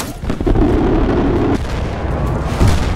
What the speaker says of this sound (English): Preparing for gun run.